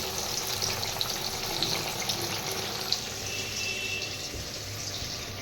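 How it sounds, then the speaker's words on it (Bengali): Pointed gourd fries in oil in a pan in a home kitchen, a steady, moderately quiet sizzle and hiss with a few soft pops and clinks, no talking. "চলো ফটাফট ভেজে নিই এই দেখো পটলাকে বসিয়ে দিয়েছি"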